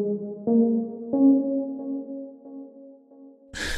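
A synth pluck melody programmed in Logic Pro X for a modern zouk, kizomba and Afrobeats track, a few clean plucked notes ringing with sustained tails, then a brief noisy burst at the end.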